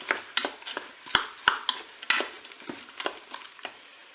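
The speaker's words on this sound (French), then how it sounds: "Je mélange." Carrots and mushrooms being stirred in a Cookeo electric pressure cooker pot, a series of light scraping clicks and soft sizzles at an irregular, close-up rhythm with no voices.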